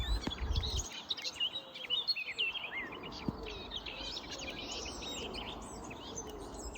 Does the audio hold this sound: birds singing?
yes